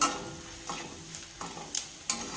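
Onions sauté with a little salt in a pan, giving a soft, low sizzle broken by several distinct scraping stirs at roughly half-second intervals.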